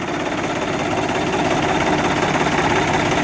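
A Mahindra 295 tractor from around 2011–2012 idles steadily at close range, its engine running as a continuous, even rumble with a faint knocking texture and no voices over it.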